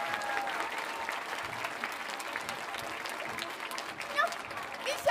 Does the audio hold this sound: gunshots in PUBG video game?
no